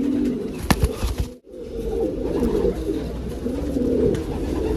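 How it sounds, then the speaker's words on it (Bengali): A female Kalduma pigeon, a long-bodied fancy breed, coos in a house setting, with soft repeated low coos running steadily through the clip at close range and a brief sharp click early on. "আগে যে নর পায়রাটা দেখিয়েছিলাম কালদমা নর, এটা হচ্ছে তার মাদি পায়রা।"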